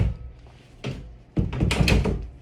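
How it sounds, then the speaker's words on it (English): A bathroom door is pushed shut indoors, with a soft thud followed about half a second later by a louder closing knock and brief rattle. "That's the door to the bathroom."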